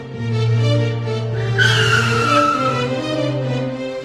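A car brakes to a stop with a rising tire squeal over a steady engine drone, the screech lasting about a second before the engine hum carries on.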